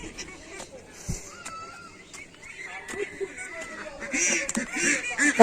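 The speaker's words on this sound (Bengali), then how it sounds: "তো মায়ামুনি হাঁসের খামারে চলে গেছে অলরেডি।" Ducks at a rooftop duck farm beside a garden, giving repeated honking quacks that grow louder and busier toward the end, heard close with a voice speaking in between.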